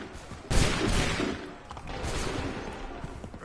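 A ragged volley of musket fire in Assassin's Creed III: a sharp burst of overlapping gunshots, then a rolling crackle of further shots and echoes dying away, loud and close, with no speech.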